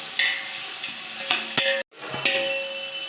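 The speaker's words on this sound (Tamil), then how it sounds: "ஆனியன் வந்து நல்லா கோல்டன் ப்ரௌன் வர அளவுக்கு நம்ம நல்லா வதக்கலாம்" Onions sizzle steadily in hot oil in a pan for chicken biryani, with a few scraping stirs and one brief break in the sizzle.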